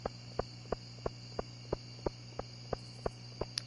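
Crickets chirp at night in a farming video game, a steady run of evenly spaced, sharp pulses, about three per second, set against a soft constant ambient hum.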